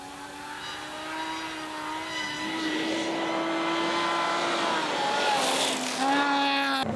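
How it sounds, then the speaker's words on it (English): Classic Subaru WRX rally car at the Otago Rally in New Zealand, a loud engine revving and shifting as it passes, rising and falling pitch with a sharp surge near the end. "it's great to hear that classic Subaru engine sound again"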